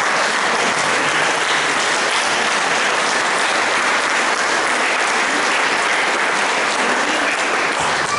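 Sustained applause from a crowd at a Breton pardon festival for Saint Nicolas, honoring the organisers, dense and steady throughout, heard alone without talk.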